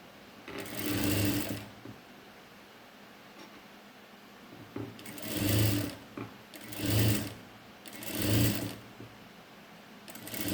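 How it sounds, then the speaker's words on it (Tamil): A sewing machine stitching the lining of a pot neck, running in four separate bursts of rapid needle chatter, with quiet pauses between the runs. "நீங்கள் இழுத்து பிடிச்சி தைக்காதீங்க, லூஸ் கொடுத்தும் தைக்காதீங்க"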